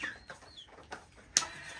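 A native deshi rooster on a small farm clucks in short, soft bursts, fairly close, with a sharper louder call near the end against quiet yard background.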